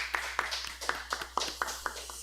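A church congregation applauding during a Sunday worship service, heard as a steady run of evenly spaced claps at moderate volume with no talking.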